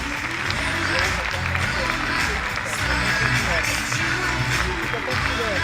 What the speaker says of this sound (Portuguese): Recebo com um forte aplauso o professor Nadim Habib.